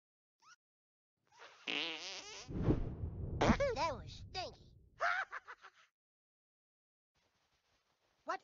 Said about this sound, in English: What is the sound of one anus farting?